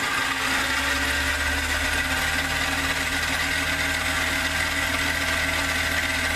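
A small toy lathe runs at high RPM while taking a cutting pass on a spool adaptor for a MIG welder, giving a steady, even motor whir with a faint grinding texture, continuous and at moderate distance.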